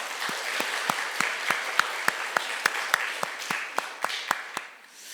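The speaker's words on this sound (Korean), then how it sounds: "이들 위해서 한 번 더 감사의 큰 박수 보내겠습니다." A church congregation applauds in thanks for Sunday school teachers during a Korean sermon service, soft diffuse clapping with a steady series of sharp, distinct claps from nearby hands in a regular rhythm, fading out at the end.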